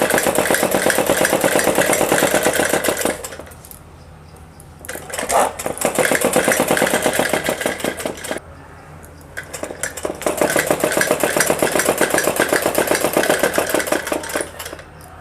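A sewing machine runs fine stitches along fabric for a plain suit fitting, its fast, even mechanical rattle repeating in three long runs, separated by two short pauses as the stitching stops and restarts.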